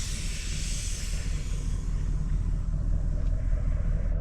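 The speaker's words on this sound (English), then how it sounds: "Tires are being aired down because the way is about to get sandy." Air hissing from off-road vehicle tires being aired down before sandy ground near Red Canyon, Kanab, Utah, a steady broad hiss over a low idling rumble that fades slightly at the end.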